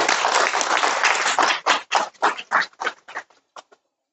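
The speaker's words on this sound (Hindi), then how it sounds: "जोरदार तालियां हो जाए" Applause from a crowd at a carrom tournament prize distribution in Moradabad, dense clapping for about a second and a half that thins into scattered individual claps and dies away.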